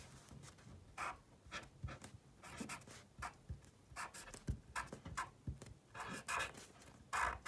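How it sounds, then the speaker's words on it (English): A black pen scratches across paper in short, irregular strokes as a name is written, close but quiet, with small pauses between strokes. "you're gonna take a black pen and write your name at the top"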